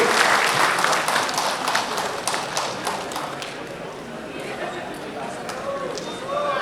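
A crowd applauds at a political gathering in Nepal, dense clapping loudest at the start and tapering gradually while continuing to the end, with speech faintly mixed in.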